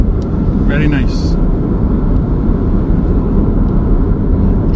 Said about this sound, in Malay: Ada sedikit bunyi tayar di belakang, daripada belakang, tapi insulasi dia memang baik